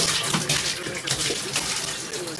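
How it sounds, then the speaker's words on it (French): Running water rinses a glass wine carboy, the steady rushing splash of hot, then warm, then cold water filling and sloshing inside, with someone talking over it. "Fait que je rince à l'eau chaude, à l'eau tiède puis à l'eau froide."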